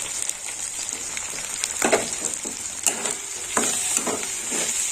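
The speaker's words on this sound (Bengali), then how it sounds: "ভালো করে কষে নেবো" Turmeric, salt, red chilli, coriander and cumin powders sautéing in a pan for kachkel fish curry, with a steady close sizzle and a few scraping stirs of the spatula against the pan.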